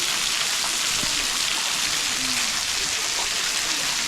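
Jhor Jharna waterfall in Tokha gives a steady, dense hiss of falling and splashing water, close and continuous, with only faint other sounds in the background.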